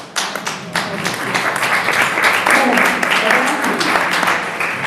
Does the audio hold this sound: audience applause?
yes